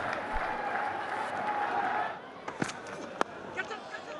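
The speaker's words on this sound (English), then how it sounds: "he deserves all the applause he gets as he heads his way off the ground" Spectators at a one-day international cricket match between Afghanistan and South Africa applaud a departing batsman, distant crowd clapping for about two seconds before fading into quieter ground ambience with a few sharp knocks.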